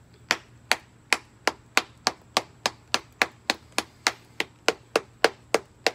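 Sharp metallic blows strike a steel crucible in a steady, evenly spaced series of about sixteen loud, close hits, each ringing briefly before the next.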